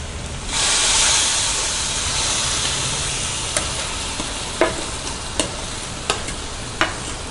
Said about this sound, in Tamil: நம்ம ரவையும் மிக்ஸ் பண்ணிக்கலாம்.